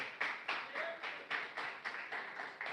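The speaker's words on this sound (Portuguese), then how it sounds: "Palmas de vitória para Jesus de Nazaré." A church congregation claps in a steady rhythmic beat, many hands together in unison, moderately loud and continuous.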